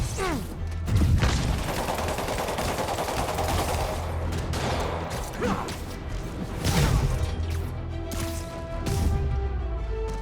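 Gunfire in the Marvel's Spider-Man video game: loud, sustained bursts of shots mixed with clanks, crashes and action effects over a dense game soundscape.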